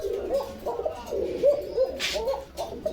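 Pigeons at a pigeon seller's loft in Bogura cooing repeatedly in soft, rolling calls, several birds close by, with faint voices and a brief rustle in the background.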